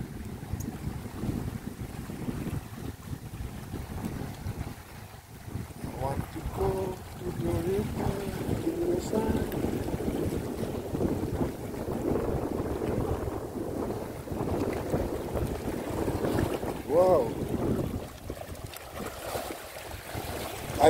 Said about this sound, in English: You hear the sound. The sound of the water.